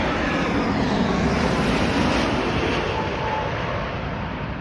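Boeing 787 airliner passing at Heathrow Airport, a loud, steady broadband roar of jet engines that fades slightly toward the end, heard alone without voices.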